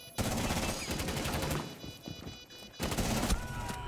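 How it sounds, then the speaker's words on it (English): Gunfire in a first-person shooter game: dense rapid bursts of shots, loud and close, with a short lull in the middle before another burst. "He shot him 4 times."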